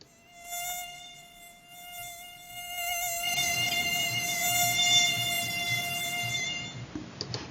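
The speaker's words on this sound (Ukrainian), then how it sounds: "Так, це комарик." A thin, high-pitched mosquito whine drones steadily, rising and wavering in pitch, close to the ear, then fades out near the end.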